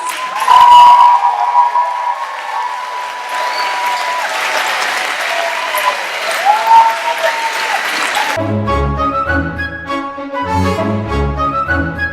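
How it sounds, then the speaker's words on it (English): An audience applauds loudly at an elementary school graduation, a dense, sustained clapping that carries on for several seconds before giving way to music. "give them one last round of applause"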